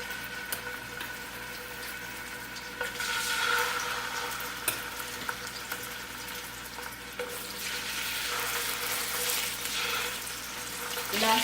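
Chicken pieces medium-frying in a pan for a home chicken curry, a steady close sizzle with soft crackling and an occasional stir or clink of a utensil, no talking.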